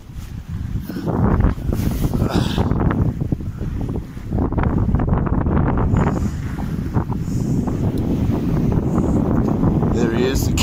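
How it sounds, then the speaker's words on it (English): Strong wind buffets the microphone aboard a gaff cutter under sail, with a roaring, gusting rush and water wash throughout, loud and close, while voices talk underneath. "We're sailing. The wind has just picked up for us."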